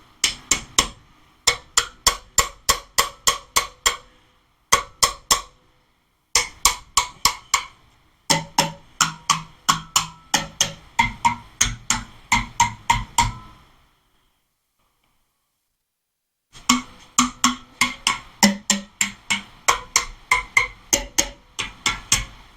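Rapid bursts of sharp, even clicking come from the valvetrain of a Chevy Vortec 5.7 350 V8 as it is turned over by hand mid-rebuild. The clicks run in close rhythmic runs, stop for a few seconds of silence, then resume.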